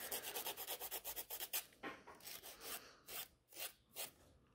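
A nail file rasps across the free edge of natural nails in quick, rhythmic strokes, about a dozen fast passes followed by slower, more spaced strokes, close and fairly quiet.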